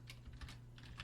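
Quick, soft clicks of typing on a computer keyboard, several light keystrokes in a rapid, slightly uneven rhythm under a low steady hum.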